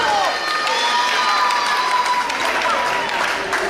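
A packed crowd at an independent wrestling show at the Morgan Hill Event Center cheers and roars continuously, a loud dense wall of shouting and applause with voices rising above it.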